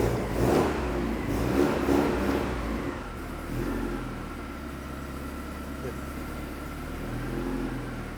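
A rough Porsche 944 engine, a barn find cold starting, sputters and surges at first, then settles into a steady low idle just under 1,000 RPM with a faint whine, heard close up.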